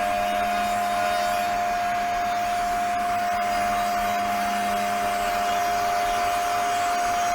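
A CNC 4040 spindle cutting a plinth for a V8 engine build gives a continuous, even high-pitched whine over a constant broadband hiss, unchanging throughout with no talking.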